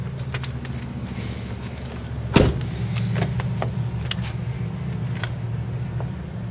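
The power seat motor in a 2007 Ford F-150 SuperCrew Cab truck hums steadily inside the cab, with a sharp click and a few faint knocks and clicks along the way.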